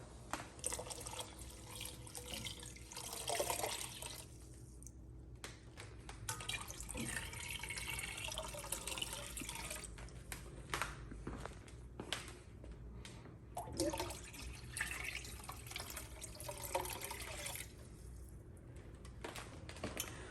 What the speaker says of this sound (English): We're going to add 3 quarts of chilled water.